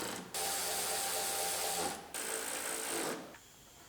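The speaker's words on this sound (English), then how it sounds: "Now we can bolt down our styrofoam" A ratchet bolts down the styrofoam insert in the rear of a GMC Terrain Denali, with two long bursts of rapid, close mechanical clicking separated by brief pauses.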